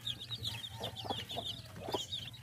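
A mother hen clucks softly and repeatedly among her growing feathered chicks, whose high peeping chirps run continuously over a quiet farmyard background with no speech.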